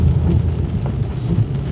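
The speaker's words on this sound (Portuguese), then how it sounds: "Muita chuva." Heavy tropical downpour in Lucas do Rio Verde, Mato Grosso, Brazil, with water overflowing drainage: a loud, continuous low roar of rain, close and unbroken, with no voices.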